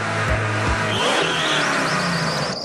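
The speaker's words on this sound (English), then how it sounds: "Good launch. Short shift to second gear, a little bit too much wheel spin there." A Corvette ZR1 muscle car launches on ice with wheel spin, its engine droning loudly and then climbing in pitch with a short shift to second gear, tire whine rising above the close, continuous roar.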